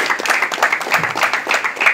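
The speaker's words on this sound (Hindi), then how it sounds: "उनका तालियों से स्वागत" An audience at the opening ceremony of the Baburam Yadav Badminton Championship, held in a badminton court complex, claps loudly and steadily to welcome an arriving official, a dense continuous patter of hands.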